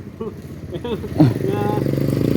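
A Rusi Sparkle 150i motorcycle engine starts and settles into a close, even, pulsing idle after a few short spoken words.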